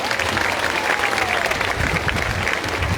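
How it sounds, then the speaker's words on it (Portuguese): A church congregation at a Catholic Mass and novena in Sobral, Ceará claps steadily, dense sustained applause from a large crowd filling the space throughout. "Dê uma salva de palmas para a vida."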